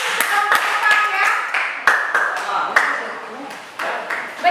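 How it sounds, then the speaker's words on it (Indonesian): Classmates applaud in a classroom during a teaching practice session, with a few seconds of steady, uneven claps from a small group heard close, mixed with light tapping. "Silakan beri aplaus duluan ya"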